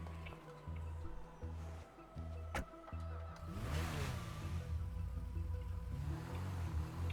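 A car engine in a driving video game hums steadily at low pitch, then swells louder and rougher midway as the vehicle moves, with no talking over it.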